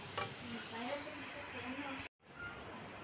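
Tadka tempering of fried onion sizzles in a large pot of beef paya curry, a soft steady crackle close by, briefly cut off then resuming, with speech at moments.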